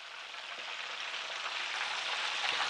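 Pieces of smoked chicken fry in hot oil, a few at a time, producing a steady, close, bright hiss and crackle that builds slightly without letting up, with no one speaking.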